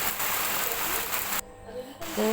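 Rain falls steadily in a village among trees, a dense, even hiss that drops away abruptly for a moment and then returns.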